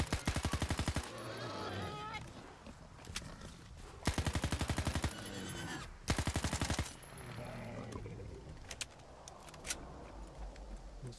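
Bursts of rapid automatic gunfire in S.T.A.L.K.E.R. 2, three loud sharp volleys about two seconds apart, with quieter rustling and movement sounds between them.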